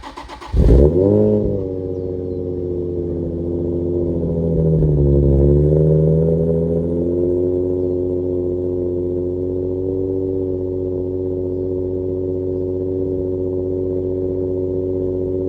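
An Infiniti G35 fitted with PPE headers and a Motordyne catback exhaust starts up, revs once with a swelling rasp, then settles into a steady, loud, deep idle heard up close.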